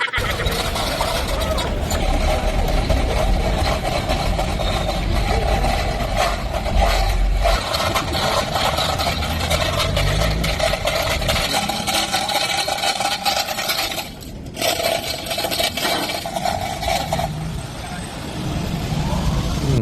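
An engine-driven machine pumps water from a river, producing a steady, continuous droning rumble throughout, with voices occasionally heard over it.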